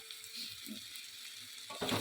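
Potatoes frying in a pan over a wood-fired clay stove, a soft steady sizzle throughout that swells louder near the end, with no talking.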